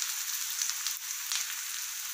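Onion, cabbage, carrot and capsicum frying in a pan for an egg dish, giving a steady, even sizzle with no talk.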